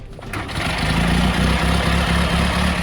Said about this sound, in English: You can capture the true sound of the cars.